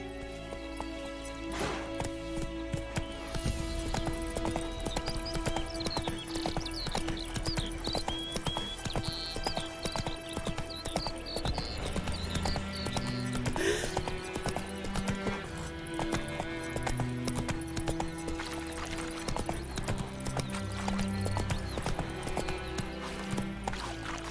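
Horse hooves clip-clopping in The Witcher 3: Wild Hunt video game, a steady rhythmic gait under a dense background of music and ambience for the whole stretch.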